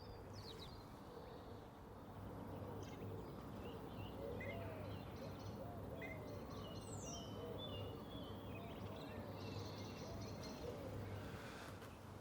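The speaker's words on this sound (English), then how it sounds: "blackbirds will defend their patch by song" A blackbird sings from the top of a cypress tree about ten metres overhead, faint fluting phrases repeating over a low steady background hum.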